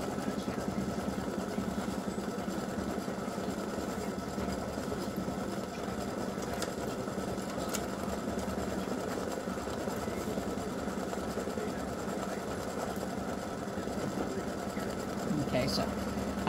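An embroidery sewing machine stitches a freestanding lace gingerbread house in a steady, fast mechanical whir with rapid needle pulses, moderately quiet and continuous, and a faint voice may sit under it.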